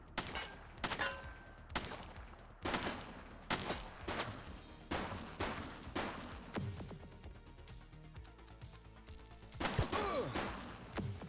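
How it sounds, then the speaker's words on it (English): Gunfire in a shooter video game set in Averno City: separate loud shots and short bursts spaced about a second apart, with sharp cracks and ringing tails, and a heavier blast near the end. "She's shooting!"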